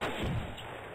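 A pistol shot fired at a car's tires in the video game Sift Heads 2, heard as a loud, dense burst of gunfire at close range with a heavy low thump, no talking.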